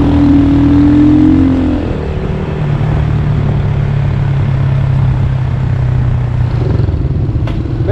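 Car engine droning from inside a vehicle driving through Vientiane city streets in Laos, steady and fairly loud, with a gear change early and a faint click near the end.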